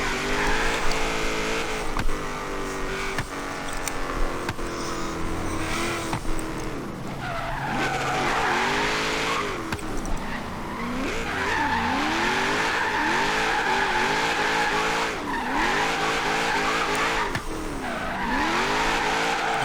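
A Hoonicorn-inspired Mustang Boss 302 drift car skids around a car park, its engine revving up and down hard in repeated swooping surges while tyres squeal through long slides, loud and close throughout.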